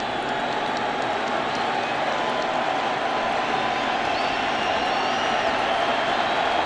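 A loud Texas crowd roars steadily at 2017 World Series Game 3 between the Dodgers and Astros, a dense, continuous wall of cheering and chatter with no break.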